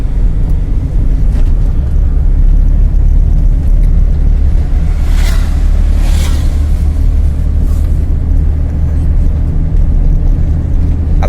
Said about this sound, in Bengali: আলহামদুলিল্লাহ, বাইক চালানি খুবই ভালো।